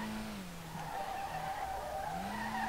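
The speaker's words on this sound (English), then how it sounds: "Oh my god, that was some hella drifting, it's hella drifting" A drifting car in the racing game SLRR lets out a loud, sustained tire screech that wavers in pitch, dips briefly and then climbs again, over the steady engine drone.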